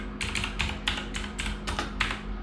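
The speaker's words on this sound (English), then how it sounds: "Okay, so now let's type random password" Close, quiet typing on a computer keyboard: about eight short bursts of key clicks in an uneven rhythm, with no talking.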